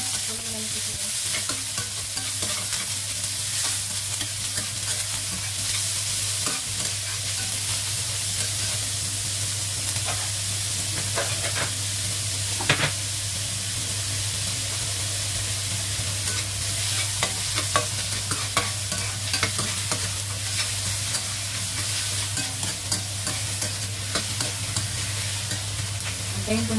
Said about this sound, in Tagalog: luto na natin yung garlic